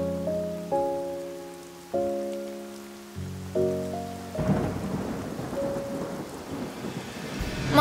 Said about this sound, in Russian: Дождь закончился, пойдем.